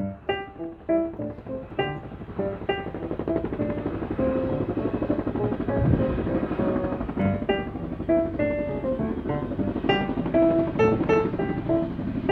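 Helicopter flying over the Grand Canyon, rapid rotor chopping that starts close and pulsing, then blends into a steady loud drone before the blade beats reemerge.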